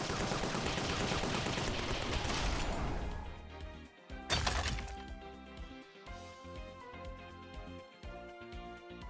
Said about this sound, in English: This is a cannon.